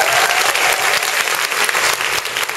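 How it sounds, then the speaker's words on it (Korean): A studio audience claps warmly for two guests at the close of a talk show, a dense, steady burst of applause lasting a few seconds. "함께 해주신 두 분께 다시 한번 큰 박수 주시기 바랍니다"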